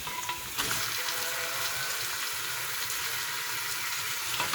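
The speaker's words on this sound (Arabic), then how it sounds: "نخلوهم يتقلوا شويه مع البصل" Chicken pieces fry with onion in a pan, a steady close sizzle crackling evenly throughout with no talk.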